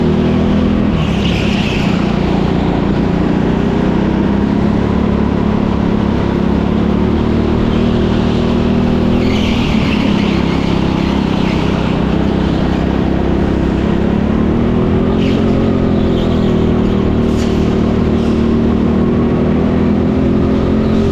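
Go-kart engines drone continuously around an indoor TeamSport karting track in Leicester, close and loud, with the pitch rising and falling through acceleration and cornering.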